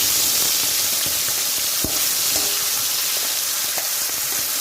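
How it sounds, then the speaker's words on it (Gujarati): Ground masala with a bay leaf sizzling in hot oil in a kadai over a medium flame, a loud, continuous crackling fry with a few sharp pops and stirring scrapes, with no talk. "હવે આપણે એને મીડિયમ ગેસ પર શેકી લેવાનો છે મસાલો"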